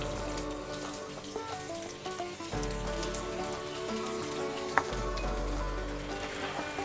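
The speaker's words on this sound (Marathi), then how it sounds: "आता ह्याच पद्धतीने आपण बाकीचे राहिलेले नगेट्सही तळून घेऊया." Paneer nuggets deep-fry in hot oil, with a dense, steady crackling sizzle like rain on a surface and a couple of faint clinks of a utensil, heard without talk.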